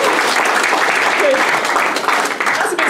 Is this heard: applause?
yes